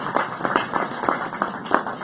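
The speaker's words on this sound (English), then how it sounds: "Let's give a round of applause again to EU" A small group applauds in a brief, light patter of uneven claps that comes through a little sparse, as if from a handful of people in a room.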